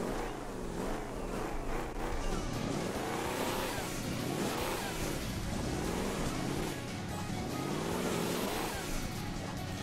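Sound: car engine revving and accelerating in Hill Climb Racing 2 video game

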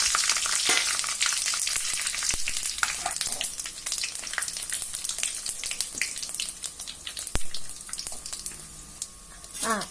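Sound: frying cinnamon, cloves, cardamom and fennel in oil

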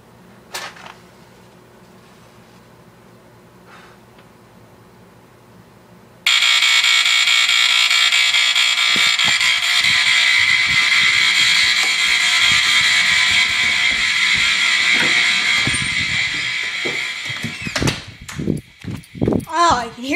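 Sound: smoke detector alarm beeping

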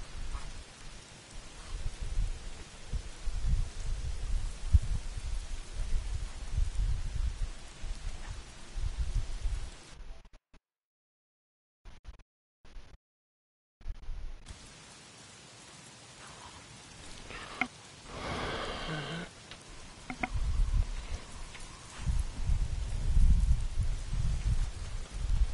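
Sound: rain in video game Days Gone

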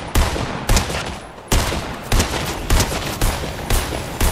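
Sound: gunfire in Fortnite video game

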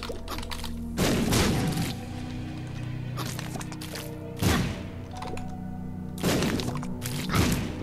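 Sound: bomb explosion in the video game The Binding of Isaac

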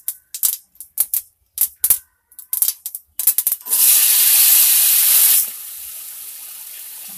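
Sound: mustard seeds crackling in hot oil

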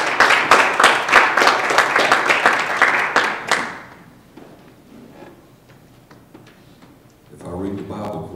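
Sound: congregation clapping hands in praise

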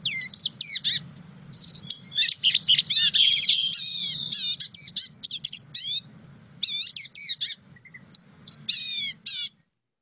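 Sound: songbird calls

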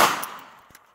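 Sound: gunshot from 6-inch revolver firing .38 Special

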